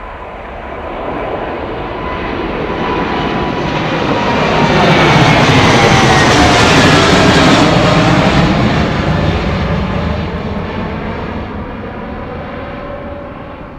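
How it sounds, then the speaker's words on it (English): A Boeing 787 rolls down the runway at London Heathrow, its loud jet roar swelling to a peak midway and then easing off. The sound is sustained and broadband, with no talk over it. "Boeing 787, folks. There you go, right there. Really rolling."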